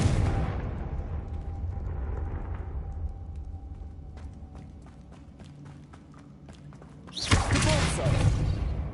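Confringo explosion spell in Hogwarts Legacy: a low rumbling start thins into scattered crackling ticks, then a sudden loud, bright burst near the end, with speech present.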